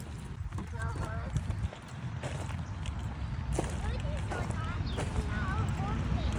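On a farm, a horse makes soft hoof clops and shuffling amid outdoor ambience, with a low rumble beneath. People talk closely over the animal sounds throughout.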